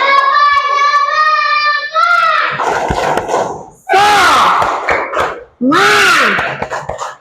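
A school class of children does a spirit clap cheer, loud chanted voices rising in a sustained call and then bursting out in rhythmic shouted phrases, with clapping mixed into the group noise.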